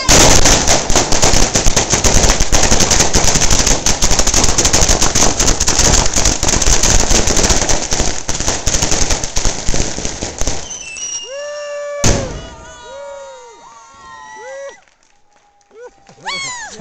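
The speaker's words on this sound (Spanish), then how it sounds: "van a tirar un petardo enorme y suena un montón" A huge firecracker set off at a 2008 celebration, a long dense crackling barrage of rapid loud bangs lasting about ten seconds, then a sharp final blast followed by quieter whistles and scattered pops as people talk.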